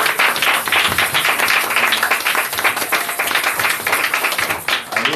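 A church congregation applauds and cheers for the glory of the Lord as pastors approach, with dense, loud clapping sustained throughout and voices mixed into the crowd noise.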